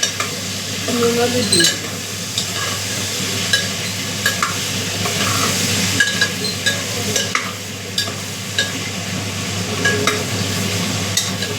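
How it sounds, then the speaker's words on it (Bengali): Potatoes frying in a pan for a thin goat-meat curry, a steady sizzle with occasional stirring scrapes and clinks, close by, while a person speaks briefly over it. "আলুটা ভেজে নিচ্ছি"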